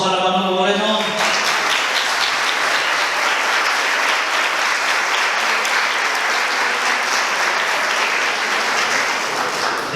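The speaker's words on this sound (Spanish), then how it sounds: "Un aplauso para Manolo Moreno." An indoor audience at a book presentation in Estepona bursts into sustained, loud applause that holds steady for about ten seconds. A single voice is heard briefly just before the clapping begins.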